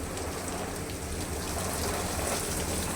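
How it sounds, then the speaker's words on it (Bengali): Heavy rain pouring outside a cafe at night, a dense, even roar of drops hitting surfaces, steady and unbroken throughout with no voices. "আর সাংঘাতিক বৃষ্টি পড়ছে"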